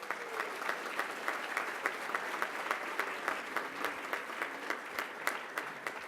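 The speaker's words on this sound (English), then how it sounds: "Let's give them now all together a round of applause." Continuous crowd applause at a 2018 alumni awards ceremony, fairly quiet and even, with individual claps ticking through the steady wash of hands and no talking.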